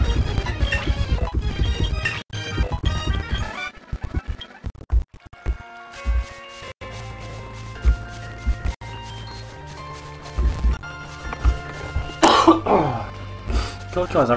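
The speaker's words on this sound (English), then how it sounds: "I keep just keep on coughing. Can't stop it, really." A man coughs repeatedly while playing a Pokemon HeartGold solo run, the bursts scattered loudly over steady game music.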